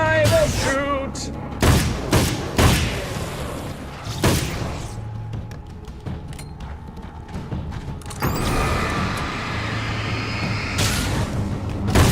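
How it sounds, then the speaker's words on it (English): Hunting rifle shots in the video game Alan Wake's American Nightmare, several sharp booming reports spaced across the stretch, mixed with game effects and a speaking voice. "With my hunting rifle, I will shoot."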